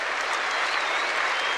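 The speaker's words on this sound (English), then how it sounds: "the whole stadium rising to its feet to applaud the tournament's #1 seed" A stadium crowd at the 1979 Australian Open tennis final gives a loud, sustained ovation to the tournament's top seed, dense, steady clapping filling the space without pause.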